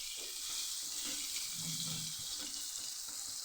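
Kantola in a pan gives a faint, continuous sizzle and bubbling hiss after a little water goes in, with a low, steady texture and no talking.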